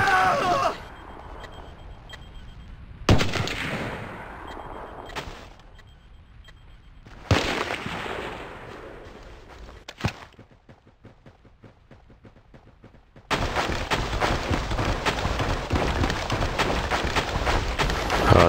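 Video game gunfire: loud broadband bursts that start sharply, rapid clicking single shots in a quieter stretch, then sustained heavy firing near the end, with no talk.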